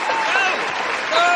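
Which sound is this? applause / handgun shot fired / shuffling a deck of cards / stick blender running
applause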